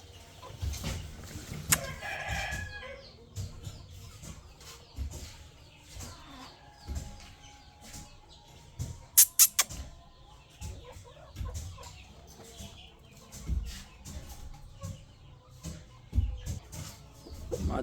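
Chickens cluck and a rooster crows on a farm, with scattered sharp calls, rustling and a few loud bursts over a steady outdoor background.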